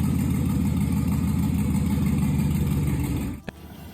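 A V8 car engine idles loudly and steadily, a deep even rumble up close, then it cuts off abruptly near the end with a brief click.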